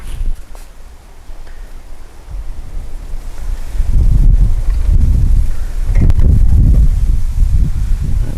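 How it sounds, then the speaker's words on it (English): Strong wind buffets the microphone at a fishing spot, rumbling low gusts that swell and roll loudly in waves over a steady outdoor hiss. "Very windy today"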